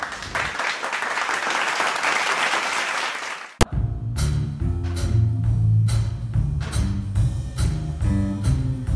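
Audience applause at a school winter concert: dense clapping fills the opening three and a half seconds. A sharp hit then cuts it off, and the jazz band starts playing.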